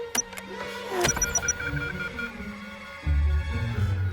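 A car with a probably dead battery fails to start: a whirring electric sound, clicks and a weak grinding crank, followed by a low rough churning, heard fairly close in a quiet scene.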